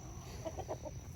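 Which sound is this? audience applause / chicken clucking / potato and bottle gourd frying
chicken clucking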